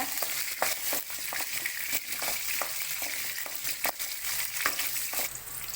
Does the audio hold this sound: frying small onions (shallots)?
yes